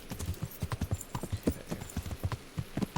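Horse hooves in the medieval game Kingdom Come: Deliverance, clip-clopping in a quick, steady rhythm of close, distinct thuds, with no talk over them.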